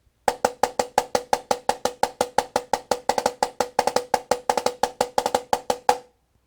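Drum diddle pattern played in 32nd notes with the fulcrum technique, crisp, evenly spaced double strokes on a drum in a fast continuous stream, close and clear, stopping after about six seconds with no voices.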